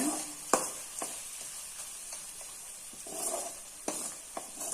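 A spoon stirs lemon juice into a hot rice mixture in a pan, giving a steady soft sizzle with occasional sharp scrapes and clinks against the metal, close by.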